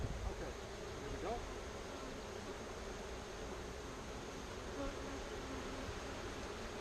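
Honey bees buzz continuously around garden hives in hot, dry weather, a dense, steady drone of many insects close by with no voices.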